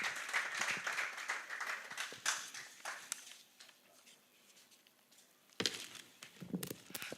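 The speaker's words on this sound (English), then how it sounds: "You give him a round of applause as he comes." A church congregation claps for a pastor during a Christmas Eve Sunday service, moderately loud and dense at first, then thinning to scattered claps, with a brief renewed burst near the end.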